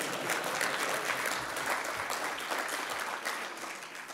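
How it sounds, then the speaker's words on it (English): Audience applause at the Wroclaw Global Forum in Poland, a sustained dense clapping from a large hall crowd that slowly tapers off toward the end. "Applause."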